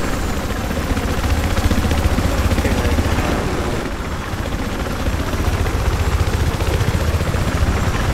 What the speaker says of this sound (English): I am going to try to land this helicopter on that dome.